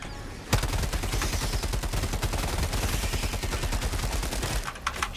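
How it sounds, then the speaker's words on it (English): Rapid, dense volleys of artillery fire in a video game burst in suddenly and pound continuously for about four seconds before fading near the end. "it's the artillery."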